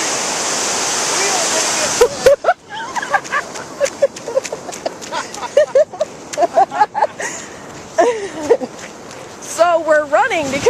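Ocean surf rushes onto the beach during clam digging at Long Beach, Washington, a loud steady roar at first that breaks into choppy bursts as people shout and a dog barks over the water.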